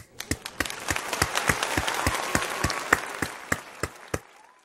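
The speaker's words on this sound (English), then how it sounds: "This claps for you lot." Sharp, distinct hand claps ring out one after another in a steady beat over a diffuse background of scattered clapping, moderately loud and nearby.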